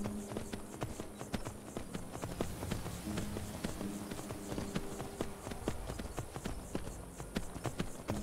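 Horse hooves clip-clop in a fast, steady rhythm in the video game Skyrim, a dense run of sharp taps over a low ambient hum, with no talk.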